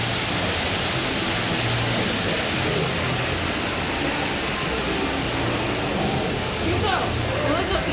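A constant broadband rush of falling water from an indoor waterfall at Ripley's Aquarium of the Smokies in Tennessee, steady and loud throughout, with faint talk beneath it.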